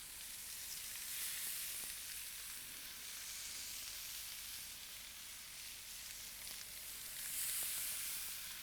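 Marinated oriental chicken strips sizzle on a grill, a steady soft crackling hiss that swells and fades slightly, heard alone without voices.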